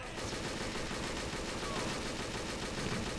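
Rapid gunfire in a video game crackles as a dense, continuous burst of shots, loud and steady throughout with no pauses.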